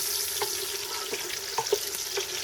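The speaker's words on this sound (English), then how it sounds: "I'm just going to fry the onion so it's very nice and soft" Diced red and white onions frying in a pan for biryani, a steady close sizzle with a few faint clicks and stirring taps throughout, no talking.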